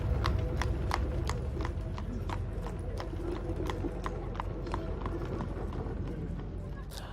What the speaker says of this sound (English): Our young folks, when they get 16, we get them a horse and a buggy